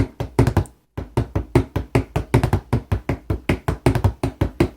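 Rapid hand drum strokes roll in an even, galloping three-note rhythm, continuing steadily after a short pause near the start.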